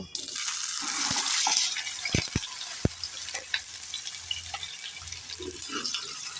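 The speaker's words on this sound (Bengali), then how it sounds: "নেড়ে চেড়ে লাল লাল করে আলু আর কচুটাকে ভেজে নেব" Potatoes and taro frying in hot white oil in a frying pan, a steady soft sizzle with a few sharp knocks of stirring, heard alone at moderate closeness.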